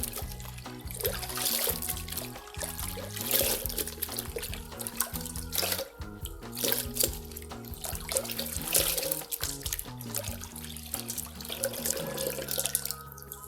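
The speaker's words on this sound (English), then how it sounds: "I'm going to take the topper and run it right through the fresh water to make sure to get out any leftover shampoo mixture" Water sloshes and trickles as a human hair topper is rinsed through a basin of fresh water to clear leftover shampoo, a steady close splashing and dripping with no talking.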